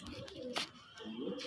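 Pigeons kept by a fancier cooing softly in short low throaty phrases, fairly close but faint, with a brief rustle in the middle.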